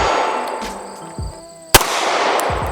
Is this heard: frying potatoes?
no